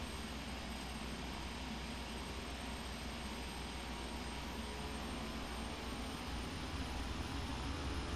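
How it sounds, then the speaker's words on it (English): Turboprop aircraft turbines and propellers spin up for takeoff, heard from inside the cabin as a steady, dense engine roar with a faint whine, continuous and unchanging, with no talking. "you can hear the turbines and you hear the propellers spinning faster but you can actually hear the turbines"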